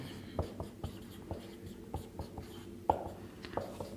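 A pen scratches and taps on paper while maths working is written out, close and fairly quiet, with irregular short strokes and clicks forming a busy uneven rhythm.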